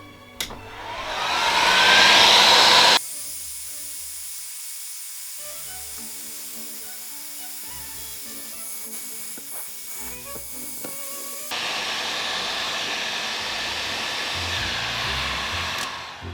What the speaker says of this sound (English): then we get our trusty heat gun